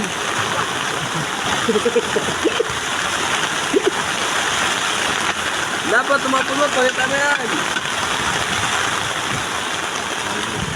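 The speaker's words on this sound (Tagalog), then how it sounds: "Kahit malakas ang ulan, tuloy-tuloy lang sa trabaho." Steady heavy rain pours down with splashing water throughout, while workers talk briefly over the downpour at a work site.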